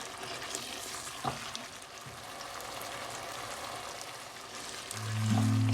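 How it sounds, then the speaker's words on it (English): Thickened masala chicken sauce stirred in a pan, a soft continuous bubbling sizzle with light scrapes and a low hum swelling near the end. "Now it's thickened, give it a stir."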